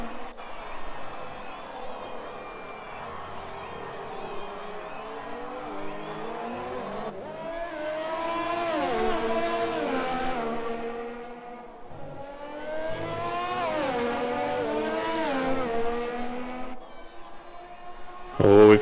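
In a racing game at Circuit Gilles Villeneuve, a race car's engine whines through repeated rising and falling revs with pitch sweeps as it enters the pits. Commentary runs over it.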